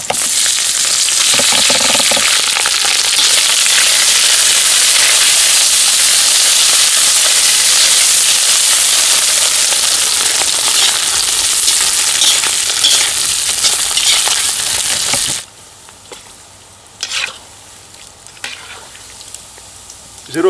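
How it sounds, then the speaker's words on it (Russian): Loud, steady, dense sizzling of lamb fat frying in a kazan cauldron over an open campfire for plov, continuous for about fifteen seconds before dropping away to faint crackles and light clinks. "я срезал жирок с жирных частей барашка и добавляю"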